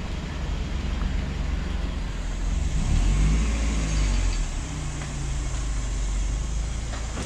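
A large car idles and drives near a garage in Kathmandu, its low engine rumble swelling midway as it accelerates, then settling back to a steady hum, close by with no talk.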